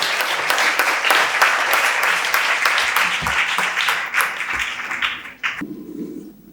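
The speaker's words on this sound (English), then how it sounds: "please, a warm round of applause for our speakers" A conference audience at an Africa Charter workshop in Brussels applauds the speakers, a dense sustained roar of clapping that fades out at the end into quiet room sound.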